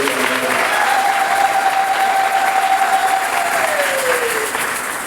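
A church congregation applauds during Mass, a dense, steady patter of clapping heard from within the crowd that fades slightly toward the end, with a faint sustained tone running underneath.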